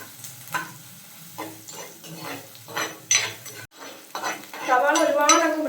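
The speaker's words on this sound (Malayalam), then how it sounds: "അതിൻ്റെ കൂടെ നമ്മൾ എടുത്ത് വെച്ചിട്ടുള്ള പച്ചമുളക് കൂടി ചേർത്ത് കൊടുക്കാം കേട്ടോ. എല്ലാം കൂടി നന്നായിട്ടൊന്ന് വഴറ്റി." Onions and green chillies sauté in a pan for fish curry, a spoon scraping and clinking against the metal in repeated stirs over a building sizzle, growing busier toward the end.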